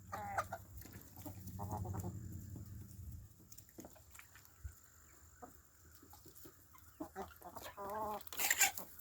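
Large farmyard chickens cluck and murmur at close range in scattered bursts, with quieter gaps between them and a brief sharper call near the end.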